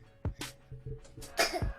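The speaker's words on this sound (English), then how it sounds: "He coughing on the mic, y'all." A man coughs several times in quick, rough bursts right up close to the microphone, with some throat clearing between them.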